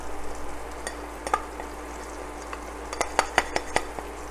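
Garlic frying in a pan for a quick Azorean green bean stew with Portuguese sausage, a soft background sizzle broken by a cluster of sharp spatula clicks and scrapes against the pan toward the end, close by, without speech.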